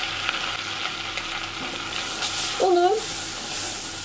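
Flour roasts in melted butter and oil in a pot, a steady low sizzle with stirring scrapes, while someone talks briefly over it.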